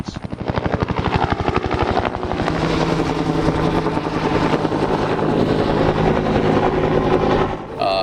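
A military Army helicopter flies past, its rotor beating with a fast, steady chop that stays loud and close the whole time. No voices are heard.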